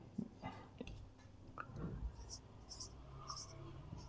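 Name being written on a board during a tense lesson, a quiet series of short scratchy strokes and taps, close but faint, with soft movement noises and a little background murmur.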